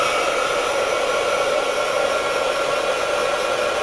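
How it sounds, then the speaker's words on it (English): A handheld heat gun for embossing polymer clay blows a loud, steady airy roar, unbroken and close for several seconds with no talking. "I heat my heat gun up first."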